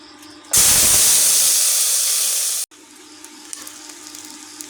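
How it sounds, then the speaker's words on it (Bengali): Chopped onion and garlic dropped into hot oil burst into a loud, sudden hiss that holds steady for about two seconds, then cuts off and gives way to a quieter, faint sizzle with light crackles. "তেলের মধ্যে এখন আমি পেঁয়াজ রসুন একসাথে দিয়ে দেব।"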